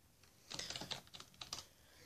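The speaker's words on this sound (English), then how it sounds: "Here's my Pick Tech in gaming keyboard" Keys tapped on a gaming keyboard, a short burst of soft clicky strokes in an uneven patter, faint and close, with quiet room tone around it.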